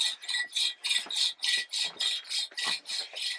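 A DIY bow drill grinds an engine valve against its seat, giving a close, steady back-and-forth rasping in about a dozen quick strokes, each a bright scraping burst with short gaps between.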